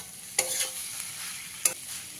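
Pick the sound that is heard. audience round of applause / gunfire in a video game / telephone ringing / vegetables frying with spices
vegetables frying with spices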